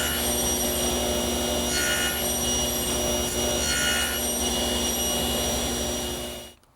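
A notch about a quarter inch deep and half an inch long is cut into a wooden shelf, giving a steady, continuous rasping cut with two brief brighter swells. It runs alone and close before stopping abruptly at the end.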